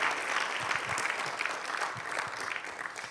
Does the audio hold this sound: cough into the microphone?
no